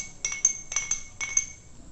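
A spoon stirs a lemon juice and honey drink in a glass, giving quiet bright clinks in three quick pairs against the rim, close and faint with no talk.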